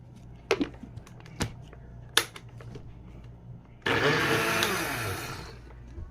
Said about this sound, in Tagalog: I-blender na po natin yan.